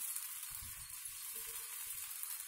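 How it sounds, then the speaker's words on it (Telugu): Ragi and urad dal dosa batter sizzles steadily on a hot iron griddle, a close, even hiss that carries on without a break and with no voices. "రేక్ వేడెక్కింది, ఇప్పుడు దోశ వేయాలి."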